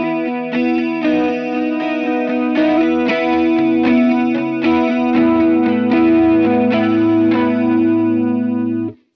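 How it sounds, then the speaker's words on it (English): Electric guitar played through a DOD Ice Box chorus pedal set to its CE-2 chorus mode, loud sustained chords and picked notes with a shimmering, wavering chorus effect throughout, stopping abruptly at the end. "if I switch this over to the CE-2 mode, which is the other chorus mode on this thing"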